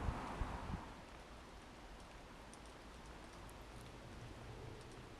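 Steady rain falls over an allotment garden on a cold, darkening October evening, a constant soft hiss of drops with a few sharper taps at the very start, no talking.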